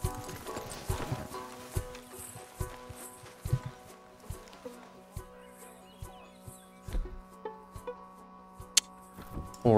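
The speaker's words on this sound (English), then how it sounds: "Horse." Hooves of a horse in Red Dead Redemption gently clop in an irregular walking rhythm, fairly close, with low tonal game music droning steadily underneath.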